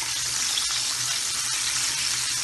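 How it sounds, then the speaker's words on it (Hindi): Chicken fillet for a zinger burger deep-fries in hot oil, giving a steady, dense sizzle with no pauses, close and loud with no talking. "इसको 7 मिनट तक हमने फ्राई किया।"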